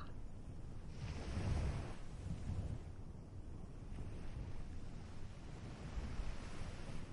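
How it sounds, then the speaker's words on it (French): Ocean waves washing onto a sandy beach, a soft continuous surge and hiss that swells and recedes in slow, rolling rhythm, with a breezy rush and no voices. "Entendez maintenant le bruit des vagues."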